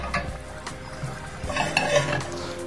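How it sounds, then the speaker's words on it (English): Onions go into a sauté pan and get stirred, with metallic scrapes, light clinks of utensil on pan and a soft sizzle, heard close with no voices. "put our little onions in a fantastic saute pan"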